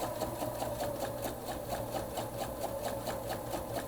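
Steady, fast whirring and ticking of a sewing machine stitching a quarter-inch seam through three quilt layers, running continuously and close by with no speech.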